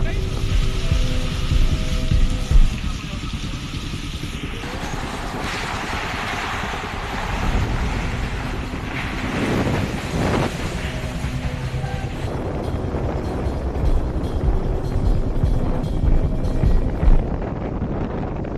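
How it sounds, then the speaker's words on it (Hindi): Strong Cyclone Nisarga winds blow in off the Arabian Sea at the Bandra sea face in Mumbai at around 50 to 60 km/h, roaring and buffeting the microphone in continuous loud gusts. "सीधे सीधे अरब सागर की ओर से तेज हवाएं इस वक्त यहाँ पर आ रही हैं"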